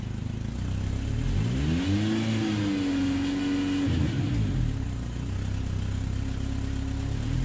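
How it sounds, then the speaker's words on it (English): A car engine revs up and holds at raised RPM for a couple of seconds, then drops back to a steady idle, done while bleeding trapped air out of the cooling system after a coolant refill; close and continuous, no talking. "just raise your RPMs to force the air out, out of the cooling system"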